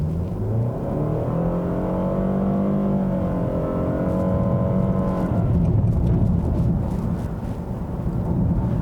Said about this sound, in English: It's got a pretty loud and noisy and very slow to respond 2-liter 4-cylinder engine with only 141 horsepower.